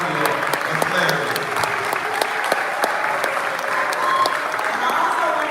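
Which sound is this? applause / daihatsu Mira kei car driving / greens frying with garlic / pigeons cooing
applause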